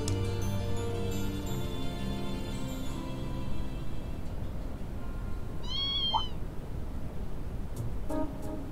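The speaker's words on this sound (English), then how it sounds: "What's the kitten doing here?" A stray kitten in Trails of Cold Steel II gives a single short, faint meow, with soft game music playing underneath.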